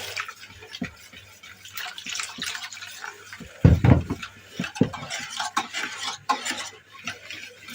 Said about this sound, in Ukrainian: І водичкою розводжу.